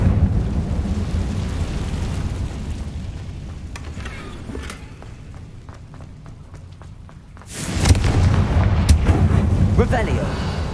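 Confringo fire spell blast in the video game Hogwarts Legacy. After a quieter stretch with scattered clicks, a sudden loud, booming burst erupts and rumbles on like thunder to the end.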